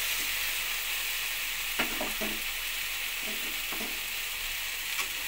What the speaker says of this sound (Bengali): মশলার সঙ্গে সবজি আলু পটল সোয়াবিন সমস্ত কিছু একসঙ্গে কষিয়ে নেব